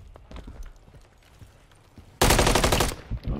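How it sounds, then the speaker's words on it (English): Loud burst of rapid gunfire erupts suddenly after a stretch of quiet background sounds in a multiplayer shooter game set in Greece, the dense volley lasting under a second before tapering into scattered trailing shots. "Oh Jesus, they are shooting."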